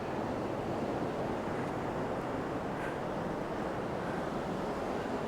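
Ocean waves and tide on the Oregon coast, a constant loud roar of surf with wind buffeting the microphone and no distinct breaks between swells.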